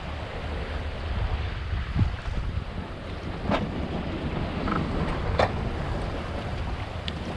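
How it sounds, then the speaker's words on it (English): Strong wind buffeting the microphone over steep waves on a sailboat heading into Beaufort, a steady roaring rush of water and gusts with occasional sharper splashes, no talk. "These winds are gradually increasing."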